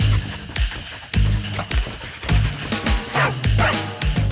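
Sniffer dog in a police setting barking loudly and repeatedly up close, with yips and whimpers mixed in.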